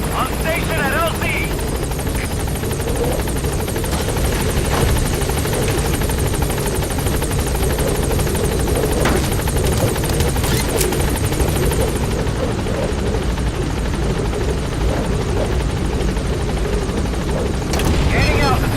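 Helicopter called Pequod in a video game arriving at a landing zone, its rotor and engine a loud, steady, close drone throughout with occasional radio-style voices over it.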